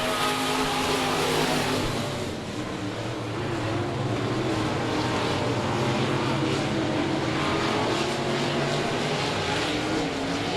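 Race cars roar around a speedway on the last lap of a 105 Speedway event, a dense, continuous engine din at steady high volume with no pause.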